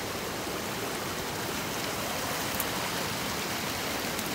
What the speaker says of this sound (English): And this creek here is coming out, actually, out of another drainage